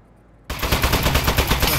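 An Aperture Science turret opens fire in the game after a brief quiet moment, and a loud rapid burst of automatic shots fills the rest.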